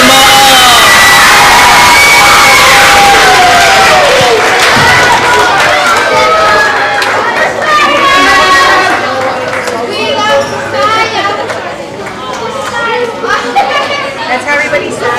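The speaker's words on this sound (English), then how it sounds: "How about another round of applause for Mrs. Polly" Loud crowd at an awards event cheering and shouting, with children's voices prominent in a dense, sustained roar that eases slightly toward the end, voices talking throughout.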